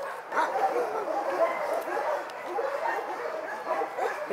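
Several dogs bark and yip together at a homeless dog shelter in Syktyvkar, a dense, continuous chorus of yelps and whimpers that stays close and fairly loud throughout, with no other sounds standing out above it.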